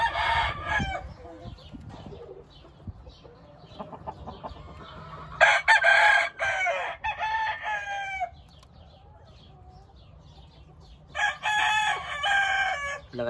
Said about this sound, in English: Here we have a white Kelso hen.